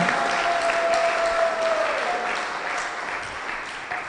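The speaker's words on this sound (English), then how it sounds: "Let's give our panel a round of applause." An audience at a devotional gathering claps for a panel in a dense, steady round of applause that tapers slightly toward the end.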